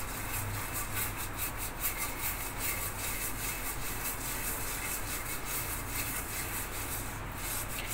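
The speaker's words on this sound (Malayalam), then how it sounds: "അപ്പോൾ നമുക്കിതുപോലെ അങ്ങ് തേച്ച് കൊടുക്കാം." A copper or brass vessel is rubbed with rice flour paste, giving a soft, continuous scrubbing and rubbing texture that is quiet and close, with no voices.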